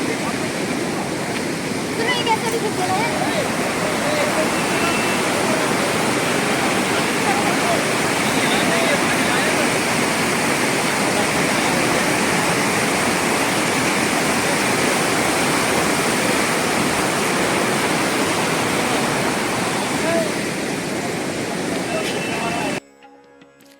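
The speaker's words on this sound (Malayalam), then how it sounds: "ആ പുഴയിലെ വെള്ളം ഒഴുകുന്നതാ" Hot-spring river water rushing at Manikaran, Himachal Pradesh, a dense, continuous roar of flowing water close by and loud, steady throughout before cutting off abruptly at the end.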